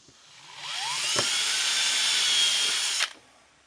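A power drill whines steadily for about two seconds while drilling a pilot hole for a bracket, spinning up and then cutting off abruptly, close and fairly clear with no talking.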